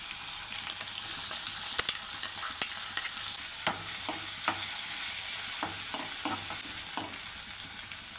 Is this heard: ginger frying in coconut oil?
yes